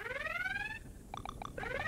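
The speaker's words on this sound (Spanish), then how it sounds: "Si no, van a seguir sonando las alarmas." An alarm wails in the Android video game Super Cat Tales, a rising siren tone followed by a few short electronic beeps, then the siren sweeps back in, moderately loud with game music underneath.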